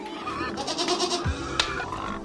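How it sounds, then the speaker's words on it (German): Goats bleat in an outdoor enclosure at a reconstructed pile-dwelling settlement, with a couple of wavering, nasal calls close by and a brief sharp noise near the end. "Im Gehege sind Geißen und Wollensäu."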